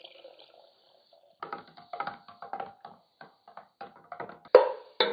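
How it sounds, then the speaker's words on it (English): Water poured into a vessel up to one gallon for homemade kombucha makes irregular splashing and gurgling bursts, quiet and close, with short pauses between pours. "Now I'm going to add water up to 1 gallon."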